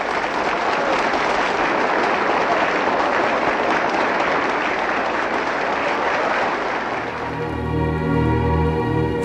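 Applause for John Merrick in The Elephant Man, a dense, loud wave of many hands clapping that runs steadily for about seven seconds, then gives way to a sustained musical swell.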